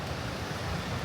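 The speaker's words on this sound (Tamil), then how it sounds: "சரியான காற்று அடிக்குது." Strong wind blows at Blyde River Canyon, a dense, steady rushing roar that buffets the microphone throughout, with no voices.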